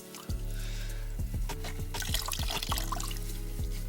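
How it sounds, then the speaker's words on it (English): Water is wrung from a soaked towel in a short series of close trickles and drips, each squeeze releasing a brief splashy patter, with no voices. "Squeeze out as much water as possible."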